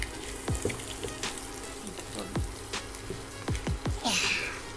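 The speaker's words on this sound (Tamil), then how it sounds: "இதெல்லாம் சேர்த்து நல்லா மிக்ஸ் பண்ணி கொஞ்ச நேரம் வதங்கிடலாங்க" Beans and carrots stir-frying in a pan for vegetable fried rice, a steady close sizzle broken by repeated scraping and stirring strokes, with no talking.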